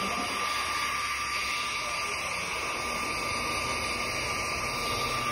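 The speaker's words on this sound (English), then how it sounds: "Remember that a heat gun is always going to be your best friend when it is cold" A heat gun blows hot air to stretch vinyl trim in a single-cab truck audio build, giving a steady, loud, unbroken whooshing roar for about five seconds.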